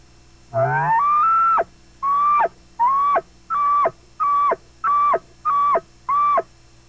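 A series of eight short, choppy elk bugle grunts imitated on a diaphragm call in steady rhythm, following one longer opening note, loud and close with no talking.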